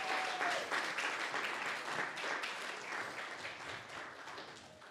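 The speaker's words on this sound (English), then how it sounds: "Can we get one last round of applause for Miss Aina Perry?" Audience applause at a symposium, steady dense clapping from a room of listeners that fades slowly toward the end, fairly faint and heard without talking.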